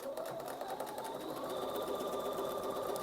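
A sewing machine stitches quilt fabric pieces together, a steady close whirring hum with a rapid needle rhythm throughout, no voices over it.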